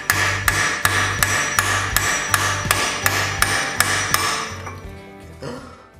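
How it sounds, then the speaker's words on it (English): A hammer strikes metal while freeing a ball joint on a Volvo XC90, about a dozen loud, evenly spaced ringing blows close up before the hammering stops. "get a bit of metal or something and then hammer it down on both sides"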